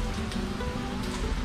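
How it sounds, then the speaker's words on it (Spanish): Steady rain falls on surfaces outside an apartment under repair, a dense continuous patter of drops with no voices over it. "Porque nos agarró la lluvia, man. Está lloviendo."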